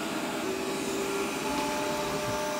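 A robot vacuum runs over corn flour scattered on a floor, giving a steady, close whirring drone with constant loudness throughout, and no talk.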